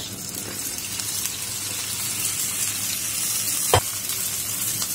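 Okra sizzling in about three tablespoons of hot oil while being stirred in a pan, a steady bright frying hiss throughout with one sharp clink near the end.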